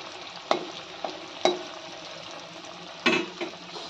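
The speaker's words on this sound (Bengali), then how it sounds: "তেলে মাছগুলো দেবো।" Fish fingers frying in hot oil, a steady close sizzle broken by several sharp clacks of a utensil against the pan.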